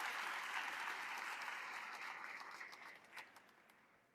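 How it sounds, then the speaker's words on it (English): Audience applause at a Class of 2026 graduation ceremony: a steady wash of many hands clapping from a large crowd, moderately distant, tapering off gradually toward the end. "Can you give Miss Rickard a wonderful applause for her?"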